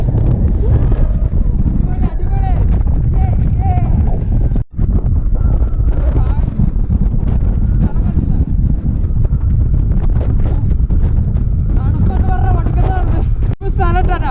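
Strong wind roars and buffets the microphone continuously near the Atal Tunnel, a loud rushing noise with voices talking underneath.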